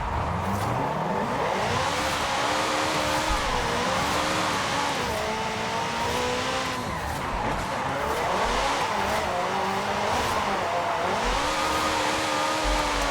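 A tuned 900HP McLaren 650S Coupe drifts through Forza Horizon 5, its engine wailing and rising and falling continuously with gear shifts while tires squeal and skid underneath, loud and steady throughout with no talking.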